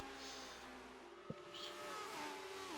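Race cars in a 1960s Grand Prix video game at Silverstone drone past with high, shifting engine tones that sweep downward, a sharp click midway and a brief tire slide, at a low volume.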